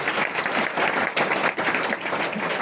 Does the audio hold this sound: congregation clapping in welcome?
yes